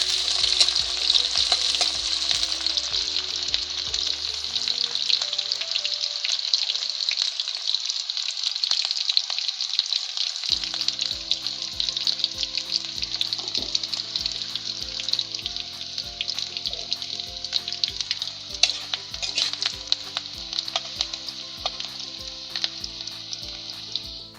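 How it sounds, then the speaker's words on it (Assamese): Onions fry in oil while being stirred in a pan, a loud, bright continuous sizzle with occasional scraping stirs, close and without talk throughout. "পিঁয়াজটো এতিয়া আকৌ ৰঙাকৈ ভালকৈ ভাজি"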